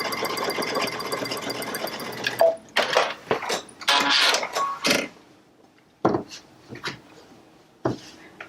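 A sewing machine stitches a fabric table runner along a border line, running steadily for a couple of seconds before breaking into short start-stop bursts of motor whir with quiet gaps between them.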